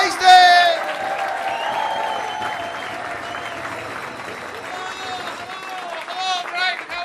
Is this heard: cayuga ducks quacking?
no